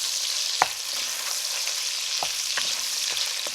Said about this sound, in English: you all can see how the, fat is starting to render out of the sausage